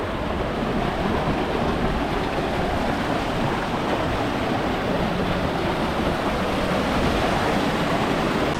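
A small waterfall on a stream in Istria, Croatia, pours in a loud, steady, unbroken rush of white water heard up close, with no voices.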